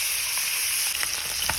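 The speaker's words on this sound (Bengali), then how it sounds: "এখন লবণ হলুদ মাখিয়েই তো হচ্ছে ভাজতে দেব।" Fish rubbed with salt and turmeric frying in hot oil, a continuous loud hiss of sizzling with a few soft pops and clinks near the end.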